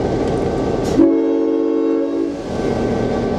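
GP9 locomotive WI&M 1838 rumbles close by, then sounds a loud, sustained multi-tone horn blast for over a second before settling back into a steady engine drone.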